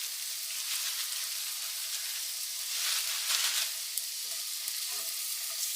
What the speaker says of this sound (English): I am using part bacon that I'm going to cook